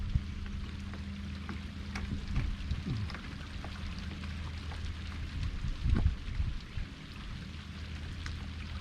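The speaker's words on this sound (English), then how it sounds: "the rain is coming straight down and there's no wind" Steady rain falls straight down on a boat in calm, windless weather, a constant soft patter on the deck and cabin with a low, even hum beneath and a few slightly louder splashes.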